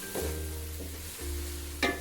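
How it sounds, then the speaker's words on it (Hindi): Ridge gourd curry stir-fried in a pan over high heat, with a steady close sizzle broken by a couple of scraping stirs and a sharp clink near the end, and no talking. "थोड़ी आंच तेज़ कर देंगे और इसकी भुनाई कर लेते हैं।"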